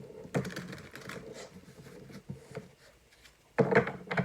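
Crisp riffling bursts of tarot cards being shuffled, one near the start and a louder one at the end, with quieter shuffling and handling between.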